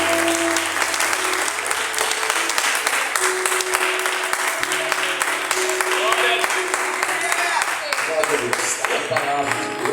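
Congregation applause during a Portuguese-language evangelical prayer service, a broad continuous wash of clapping over sustained musical tones from keyboard or organ, fairly loud throughout.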